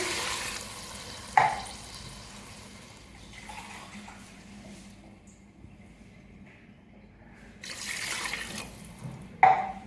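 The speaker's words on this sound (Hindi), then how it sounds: "अब पानी शामिल करेंगे" Water pours into a cooking pot of namkeen gosht in a few short splashing bursts, with quieter stretches between and no talking.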